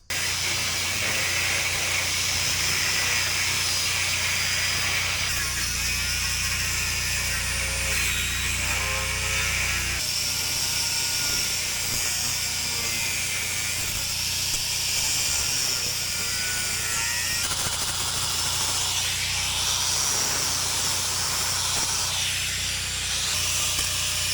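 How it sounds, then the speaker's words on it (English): Grinder putting a bevel on a steel plate while reinforcing an old backhoe frame, a loud steady high-pitched grinding whine with shifting tone as the disc bites, continuous and close for the whole stretch. "So I'm going to put a little bit of a bevel on that."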